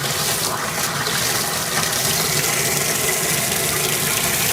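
Fluval FX6 aquarium filter sponges are rinsed under running water, a steady close rush and splash that carries on without a break and with no voices.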